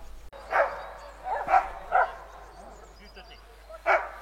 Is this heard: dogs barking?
yes